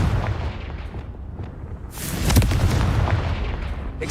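A Confringo fire spell blast in Hogwarts Legacy combat, a sharp booming impact about halfway through, rising out of quieter game ambience and followed by a sustained, rumbling tail.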